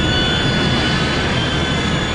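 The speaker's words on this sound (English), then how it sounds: "He tried to accelerate the left-hand engine and use it." An airliner's left jet engine runs loud and close, a sustained roaring whine with steady tonal lines over broad rumble, holding at high power throughout.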